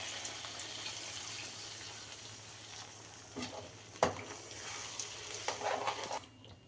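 Cornflour slurry is poured into a sizzling sauce with tomato sauce in a pan, giving a steady low frying hiss with a sharp splash and then stirring scrapes near the end.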